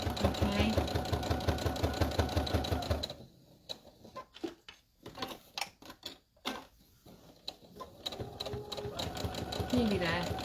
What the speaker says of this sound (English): And then we're going to sew 2 lines at the middle.